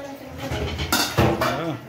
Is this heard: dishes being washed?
yes